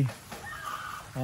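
Chickens on a farm give brief clucks at feeding time, short and fairly faint, one call near the start and another at the end, with quiet ambience between them.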